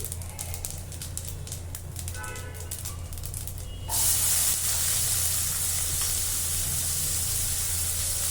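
Chopped onions hitting a hot pan of oil with mustard and cumin seeds for a sour egg and tomato curry, a loud, steady close sizzle bursting in partway through after quieter crackling and chirping.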